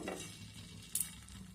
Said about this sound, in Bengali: এবার প্যানের মধ্যে আমি আবারও সামান্য তেল দিয়ে দিলাম। এবার এটাকে আমি আবারও ভেজে নেব।